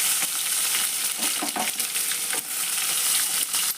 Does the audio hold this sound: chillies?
yes